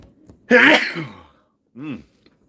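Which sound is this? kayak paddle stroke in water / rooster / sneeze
sneeze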